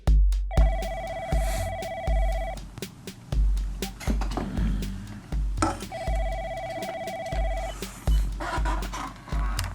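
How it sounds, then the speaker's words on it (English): A telephone rings twice with an incoming call, each ring a sustained electronic trill lasting about two seconds, over a backdrop of clicks and knocks in a room. "I've got some downtime, and I get a phone call from Mike Hill"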